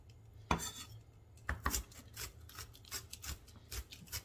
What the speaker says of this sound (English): Now we're just going to give all of that a good chop